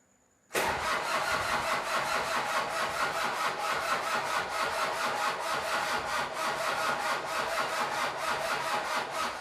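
A Toyota Kijang with a 2L diesel engine cranks slowly on a weak battery, starting abruptly after a brief quiet moment and then churning loudly and steadily in an even rhythmic labour that runs to the end without catching.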